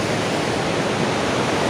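Rivers meeting at the Rudraprayag confluence rush with a steady, dense roar of flowing water, close and unbroken, with no voices over it.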